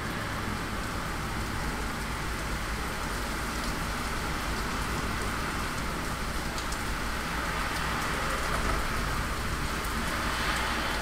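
Steady heavy rain hisses and patters on surfaces, an even, dense downpour with no voices.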